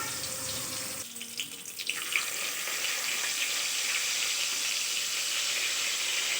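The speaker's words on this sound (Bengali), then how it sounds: "এরকমভাবে আমি বেগুনগুলো ভেজে নেব।" Eggplant pieces fry in a generous amount of oil in a wok, giving a steady, loud hiss that fills the whole clip after a brief dip near the start, with no talking.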